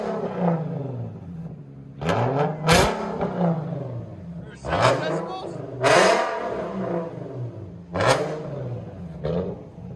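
Infiniti Q60 with a 3.7L V6 and aftermarket exhaust, revved repeatedly in sharp, loud bursts that rise and fall about every two seconds over a steady rumble, with people talking over it.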